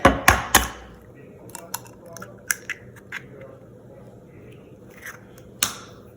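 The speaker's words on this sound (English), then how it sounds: "we're first going to crack in our egg" An egg cracked against a bowl of creamed butter and sugar for chocolate chip oat cookies: two sharp close taps at the start, then scattered light clicks and shell crackles over a quiet kitchen room tone.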